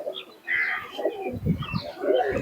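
Teddy pigeons coo in a low, soft murmur, several overlapping calls repeating unevenly at close range, with faint chirps mixed in and no talking.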